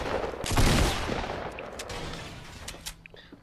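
Gunfire in the video game Fortnite, a dense burst of loud rapid shots at the start followed by scattered sharper reports over a noisy, reverberant backdrop.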